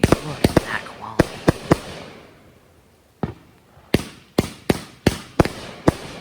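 Mr. Right 20's 500 gram fireworks cake firing in a series of loud, sharp bangs, irregular at first, then a pause and a quicker run of booms with a decaying tail, with a voice speaking at times.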